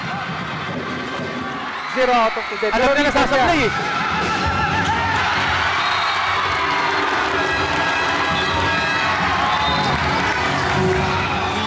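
Crowd from Barangay Santa Elena cheering at a youth under-15 MPBL basketball game, a swelling roar of shouts and whoops, with play-by-play commentary talking over it.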